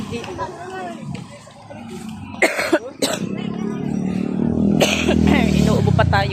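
Several sharp coughs burst out close by at a busy market, with a background of voices and crowd chatter continuing throughout.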